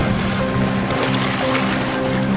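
Sailboat on a calm Caribbean sea, a steady close wash of water and wind with a low engine-like hum beneath, even and unbroken.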